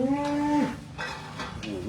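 An uncastrated crossbred European bull, roughly yearling size and weighing about 476 kg, lets out a loud, close, sustained moo that breaks into breathy, rough huffs, with no talking over it.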